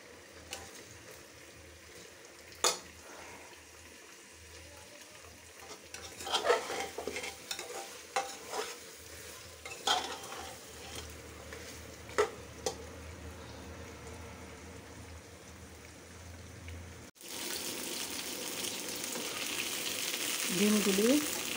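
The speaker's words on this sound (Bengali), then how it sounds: "গরুর মাংসটা একটু হয়ে আসছে, এখন আলু দিয়ে দিলাম, একটু কষাবো" Beef curry with potatoes sizzles in a pan while a spoon stirs it, with scattered scraping knocks over a faint fry, then a loud steady hiss rises near the end.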